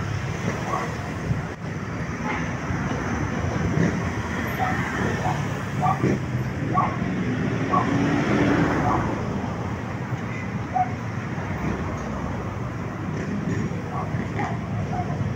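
Road traffic crawls past the NLEX-SLEX connector construction site, a continuous low rumble of engines with scattered passing vehicles, while a voice talks over it.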